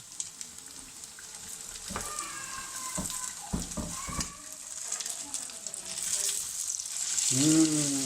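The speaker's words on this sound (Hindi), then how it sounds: "फ्राई कर दें दूसरी तरफ में।" Potato kebabs (aloo tikki) frying on their second side in hot oil: a steady, bright sizzle runs throughout, broken by a few clattering knocks and scrapes, and swells louder toward the end. A voice speaks briefly.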